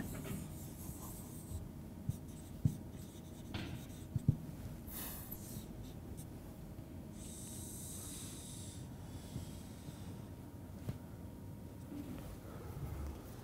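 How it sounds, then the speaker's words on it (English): Someone writes out a block schematic of a digital control structure, a long stretch of quiet, steady scratching strokes with occasional soft taps, close but faint, with no one talking. "I am going to write a shortened block schematic of our control structure"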